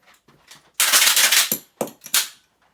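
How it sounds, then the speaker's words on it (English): Slam fire of a Tanaka 1897 trench gun replica shotgun: a loud, close mechanical clack and burst, followed by two sharper snaps as the pump action cycles, all within a few seconds and without talk. "Now let me show you the slam fire."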